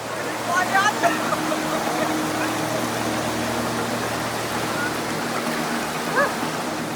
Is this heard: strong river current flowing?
yes